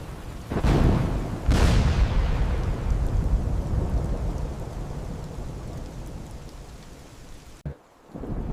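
Steady heavy rain pours throughout, broken by two loud nearby thunderclaps in the first two seconds whose rumble fades slowly under the downpour.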